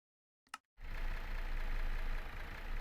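After a brief click, a loud engine in Minecraft Beta 1.7.4 roars steadily and continuously, a dense rumbling drone that stays constant to the end.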